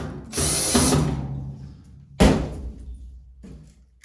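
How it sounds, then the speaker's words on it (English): A power drill drives a screw home on a Whirlpool washer during a shock absorber replacement. It gives a loud burst of whirring, then a second shorter burst after a pause and a faint third one, each ending abruptly, close by. "put your screw back on, and drive it home"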